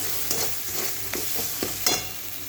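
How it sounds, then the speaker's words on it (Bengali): Spice paste for a spicy pabda fish curry fries in hot oil with a steady sizzle, while a spoon scrapes and stirs it in several short strokes, close and fairly loud, with no talking. "মশলাটা ভাজতে ভাজতে অনেকটা ডলা হয়ে এসছে"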